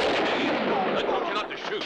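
Gunfire from a western film scene, a dense burst that fills the whole moment loudly and stays sustained with a slight dip near the end, with no clear separate shots.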